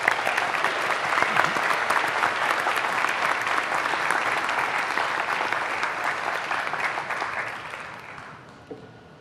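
An audience at a spring honors ceremony applauds: a dense, loud wash of clapping hands that holds steady for several seconds, then thins and fades out at the end.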